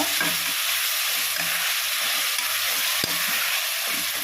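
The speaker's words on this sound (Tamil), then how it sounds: "இது நல்லா வதங்கணும்" Onions and tomatoes, salted, sauté in a pan for prawn biryani with a loud, continuous sizzle and frying hiss, plus a single sharp scrape of a stirring utensil partway through.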